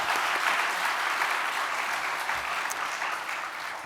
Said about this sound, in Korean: 스킷 드라마를 먼저 준비한 우리 교육자분들에게 박수 보냈으면 좋겠습니다.